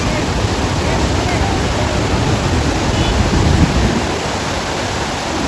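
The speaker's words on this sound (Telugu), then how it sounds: "సో ఇప్పుడైతే వాటర్ ఫాల్ దగ్గరికి వెళ్తున్నాం, చూపిస్తాం మీకు వాటర్ ఫాల్." Mountain water pours down a waterfall near Rohtang and the Atal Tunnel, a loud, continuous broadband roar of rushing water that stays steady and close throughout.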